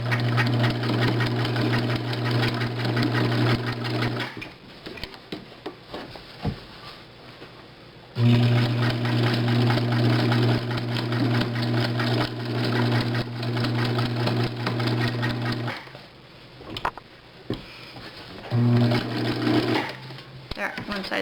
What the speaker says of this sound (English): I'm doing a zigzag stitch as well. You just have to adjust that on the machine.